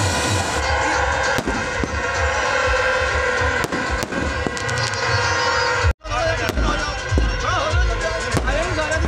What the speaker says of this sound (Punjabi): ਤੁਸੀਂ ਦੇਖ ਸਕਦੇ ਹੋ ਕਿ ਪਟਾਕੇ ਚਲਾਉਣੇ ਸ਼ੁਰੂ